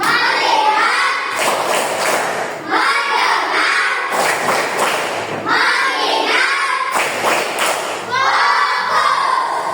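Children in a classroom clap out the 'tepuk fokus' routine together, loud rhythmic bursts of group clapping and thumps with shouting voices, repeating in waves for several seconds.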